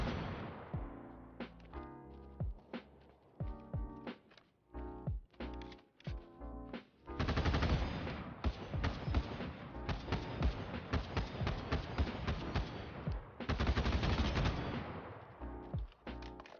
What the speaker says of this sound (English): they announced a new support weapon, the RPK-16, which I'm going to show a video on screen right now